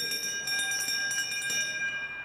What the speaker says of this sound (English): In pair 5, DeBach hears the bell ring. She has 1 lap to go.